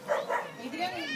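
A dog barks a couple of times close by at a family home, with people talking over and around the barks.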